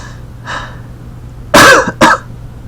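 A single close, loud cough, followed by a second short cough, after a faint breath in an otherwise quiet room.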